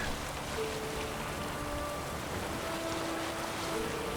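Steady rain falls in the Witcher 3 game world, a constant, even hiss of drops on surfaces with a faint tonal hum underneath and no talking.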